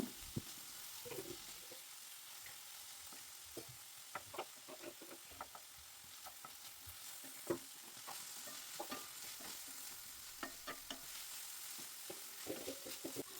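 Onion and tomato fry in a pan while being stirred, a steady hiss of sizzling with frequent scraping and clicking strokes of the spoon throughout.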